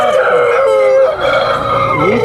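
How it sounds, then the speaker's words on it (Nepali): A farm rooster crows loudly and close by in a long sustained call, with other fowl faintly in the background. "भिडियोलाई यो भालेबाट बन्द गर्न चाहन्छु है भाले देखाएर"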